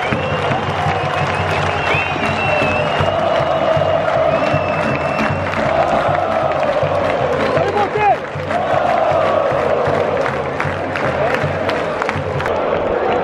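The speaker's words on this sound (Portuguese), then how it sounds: "O torcedor de São Paulo aplaudiu o Palmeiras" Stadium crowd of São Paulo supporters at a youth cup football match against Palmeiras, applauding and cheering loudly in a continuous roar, with whoops, shouts and chanting voices rising from the stands.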